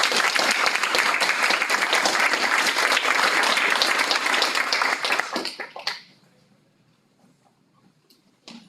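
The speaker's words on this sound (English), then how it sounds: "One last applause to Namelok, and thank you." Lecture audience applauding at the end of an architecture talk, dense sustained clapping for about five seconds that fades to near silence, followed by quiet room noise.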